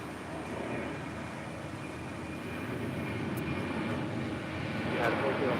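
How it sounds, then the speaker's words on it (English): A JetBlue Airbus A321 rolls down runway 25 Right at LAX, its engine roar building gradually and steadily at a distance, heard alone with no talk over it. "Got that JetBlue A321 now rolling down at 25 right."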